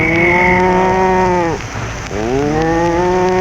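Cattle mooing in an old radio Western comedy, a long, loud low lowing with drawn-out harmonic calls that dip and rise again, close and clear with a steady hiss of rain-like noise beneath and no talk.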